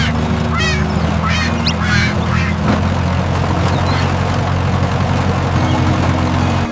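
A cartoon duck quacks in a farm scene with a tractor, giving a few loud quacks early on over a steady low engine hum that continues throughout.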